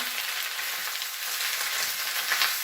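Greens wilting in a hot pan for an African coconut curry, a dense continuous sizzle with crackling hiss and faint stirring, close and steady with no voices.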